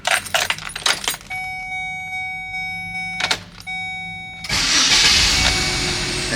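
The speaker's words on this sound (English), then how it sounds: "We're gonna start this thing up." 2014 Chevy Express van being started: keys jangle and warning chimes ring steadily for a few seconds, then the engine cranks and catches into a loud, even idle.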